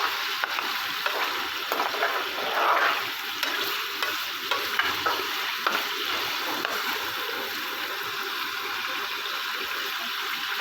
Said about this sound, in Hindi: ऑयल में जैसे चिकन फ्राई हो रहा है तो साथ में आपने लहसुन का थोड़ा सा तुड़का लगा देना है।